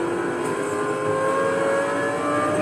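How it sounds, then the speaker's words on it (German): A car accelerating in Need For Speed Most Wanted, its engine roaring loudly and steadily with rising revs, close and alone, without any talk. "Und jetzt Gas geben."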